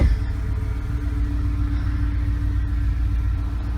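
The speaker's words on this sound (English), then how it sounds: "That's what I like to hear when I start my vehicle." A car engine idling steadily after starting, a low constant rumble heard close up with a smooth, even tone and no talk over it.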